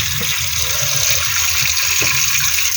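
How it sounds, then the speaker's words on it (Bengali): A steady, loud rush of running water, likely from a tap, as fish are rinsed in a kitchen, continuous and close, with a few faint knocks beneath it. "মাছগুলো এখন ধুয়ে নিই"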